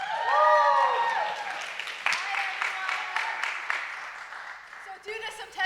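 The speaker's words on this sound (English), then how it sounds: "Give them a nice round of applause" After a brief spoken introduction, an audience applauds Nashville recording artists Alan and Kelly with a moderate wash of clapping that carries on for several seconds before tapering off, with some talk near the end.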